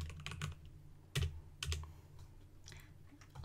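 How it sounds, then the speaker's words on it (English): Typing on a computer keyboard at a terminal, a close run of irregular key clicks with a few heavier strikes, steady and alone without talk. "you just type in the name of the file while standing in the folder it's in"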